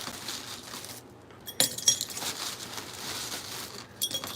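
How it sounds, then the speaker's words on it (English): Ice cubes drop and clink into a drinking glass in a home kitchen, a few bright light clinks over a low steady background hum. "Put a little bit of ice in this glass."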